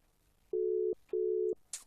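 Telephone busy signal on an unanswered call: two steady, loud tones, each about half a second long, separated by a short gap, with a faint click at the end.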